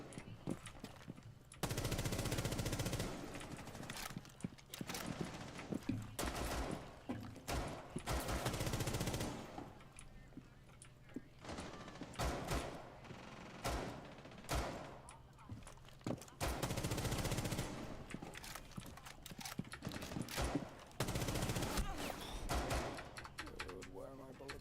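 Gunfire in Rainbow Six: repeated bursts of rapid shots break out between quieter stretches, loud clattering volleys coming and going across the clip, with talk in between.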